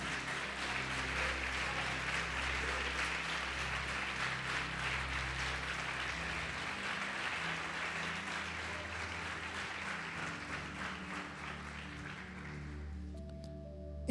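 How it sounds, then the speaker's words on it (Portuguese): A church congregation applauds during a sermon on the Lord's Supper, a soft, steady wash of clapping over sustained keyboard chords that thins out and stops near the end. "Você pode aplaudir o Senhor Jesus por isso?"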